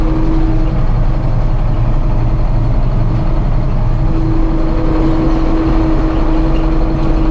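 A tractor engine in fifth gear holds about 1300 rpm at roughly 6 km/h while spraying herbicide on soybeans, giving a loud, steady, close drone with a constant hum throughout.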